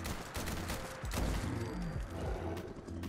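Rapid automatic fire from a modded HK G11 rifle in a Fallout game, a dense burst of shots with mechanical clatter running nearly continuously at moderate level.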